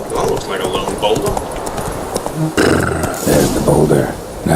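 Hooves of a horse ridden through the open-world game The Witcher 3: Wild Hunt, a steady clip-clop beating along under game ambience, growing louder and busier in the second half.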